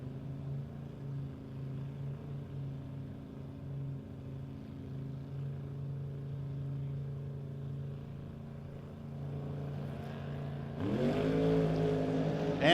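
A Street Mustang drag racing car at the No Box 660 Shootout drag strip: a deep, steady engine rumble at a distance, then a sudden rising roar as it revs near the end.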